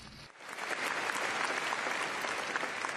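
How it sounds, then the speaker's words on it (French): Sustained applause from a large audience at a Conservative party convention, rising quickly after a brief pause and holding steady and loud throughout with dense clapping and no talk over it. "Applaudissons-les."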